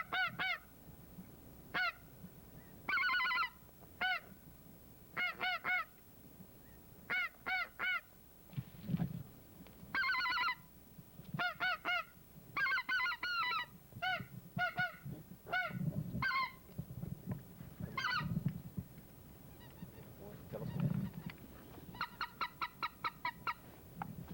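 Geese honk repeatedly during a goose hunt in loud, uneven bursts, many calls overlapping at moderate distance with short quiet gaps between volleys.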